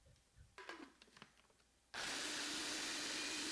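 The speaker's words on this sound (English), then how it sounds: "Again, more blender shaking." A blender motor kicks in abruptly after some light clattering and then roars steadily at high speed blending fruit, loud and close.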